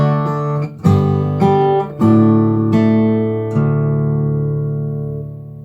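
A guitar plays a measure of Randy Newman's "When I'm Gone" slowly with two added optional notes, several plucked chords and single notes sounding in sequence before a final chord rings and decays, no voice.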